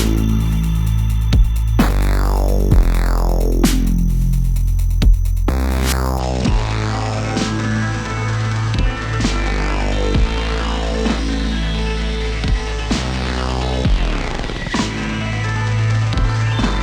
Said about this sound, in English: I ended up making something like a lo-fi kind of effect.